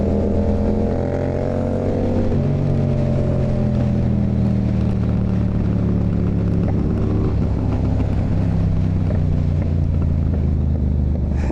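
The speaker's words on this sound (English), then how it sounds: "So many traffic, so much traffic." Heavy road traffic heard from a bicycle on a group ride: loud, continuous engine drone with shifting tones as vehicles pass close by and rev, and no talking.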